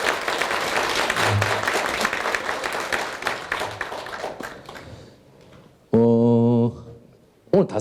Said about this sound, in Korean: 다시 한번 우리 원장님 박수 한번 주십시오.